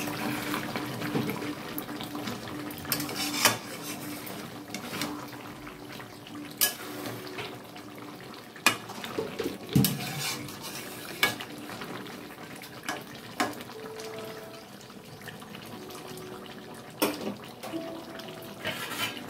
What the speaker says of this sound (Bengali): আমি এই চাপা খুলে খুলে প্রায় 20 মিনিট ধরে এইভাবে আমি সমানে কষিয়ে যাচ্ছি।